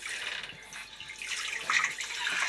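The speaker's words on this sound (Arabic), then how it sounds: "عموما بصي كده اهوت بالسفنجة هتلمي بقى المية." A sponge soaking up water from a gas stove top during cleaning, a close, soft wet squishing and swishing with trickling sounds that swell toward the end, with no speech.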